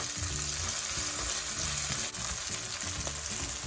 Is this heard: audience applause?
no